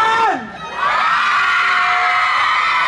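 A crowd at a live fan event cheers and shouts loudly and continuously, with whoops rising after a short dip, close and sustained throughout.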